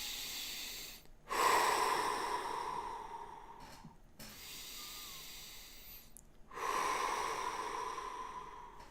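Slow, deep breaths taken close up in a calm setting, three long drawn inhalations and exhalations with brief pauses between, each swelling and easing off gently, with no talking.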